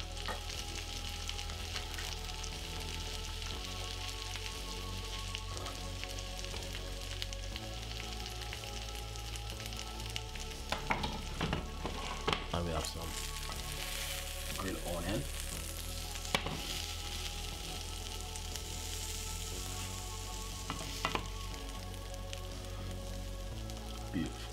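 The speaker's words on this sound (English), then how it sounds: "This is a steak." Beef steak pan frying, a steady close sizzle and crackle throughout with occasional louder pops and spatters, no talking.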